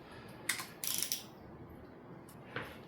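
A torque wrench ratchets on water pump bolts of a Ford Twin Cam engine, giving short bursts of close metallic clicking, a longer ratcheting run, then a final sharp click near the end, with quiet gaps between.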